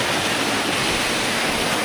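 Ashokjhar waterfall in Jajpur, Odisha, roars in a steady, loud, unbroken rush of falling water, close by, with no voices over it.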